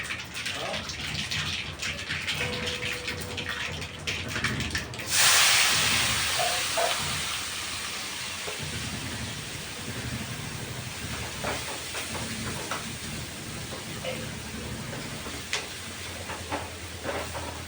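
Mustard seeds and cumin sizzle in hot oil, a broad loud hiss that swells suddenly partway through and settles into a steady crackle with faint pops, no voices.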